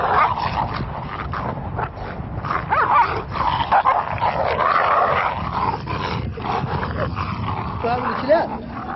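Tall, muscular dogs belonging to Mauritanian desert nomads bark and growl in repeated bursts under a steady narrating voice, close and fairly loud.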